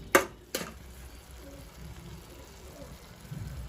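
Chopped capsicum, chillies and onion sauté in a hot pan for a masala pav snack, giving a soft steady sizzle after a couple of sharp clatters of stirring at the start.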